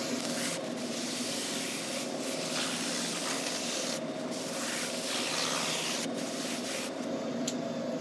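Mineral oil and beeswax finish is rubbed into an ash bowl, likely with the bowl turning on a lathe, making a constant close rubbing hiss with a few short breaks.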